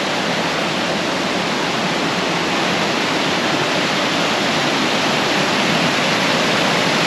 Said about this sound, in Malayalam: ചെറിയ വെള്ളച്ചാട്ടമാണ്.